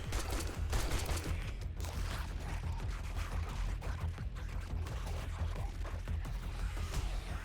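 Gunfire in the zombie survival game 7 Days To Die, with dense bursts of rapid shots firing continuously against a busy background of game noise.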